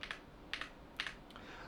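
Typing on a Redragon Eclipse PRO mechanical keyboard, a few quiet, crisp key clicks in small clusters with short pauses, heard alone.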